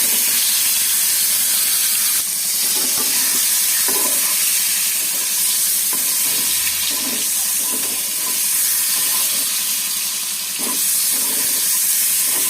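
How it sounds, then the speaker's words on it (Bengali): An egg fries lightly in a pan with turmeric, a steady bright sizzle running throughout with occasional stirring and scraping clicks. "ডিমটা হালকা ভেজে নেব"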